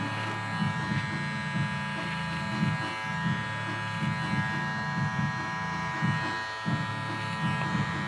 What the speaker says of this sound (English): we're going to use the teeth of the clipper again